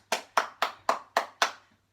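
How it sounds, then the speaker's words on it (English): One person claps six times at a steady, even pace during a home workout, each clap sharp and close, with no talk. "Give yourself a clap."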